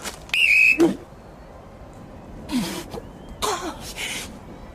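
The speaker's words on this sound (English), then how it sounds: "And I've got my whistle. Blow it and I'll shoot you." A police whistle blown in short shrill bursts, one clear near blast at the start followed by a couple of fainter, breathy attempts with pauses between them.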